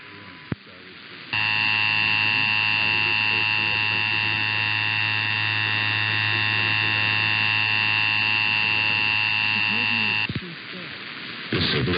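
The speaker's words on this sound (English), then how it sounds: "The following tones will conclude this test from the Washington State Emergency Operations Center." Washington State Emergency Alert System monthly test tones: a loud, steady electronic dual-tone attention signal holding for about nine seconds, bracketed by brief digital data bursts, with no voice over it.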